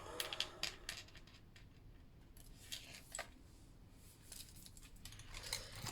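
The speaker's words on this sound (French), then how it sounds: "Je prends des ciseaux." Scissors cut paper card while a simple flap card is being made: faint, quick snips and small clinks come in a scattered run at close range in a quiet room.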